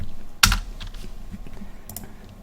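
A single sharp keypress or short burst on a computer keyboard while entering a Git Bash command, close and clear over a quiet background hiss, with no talking.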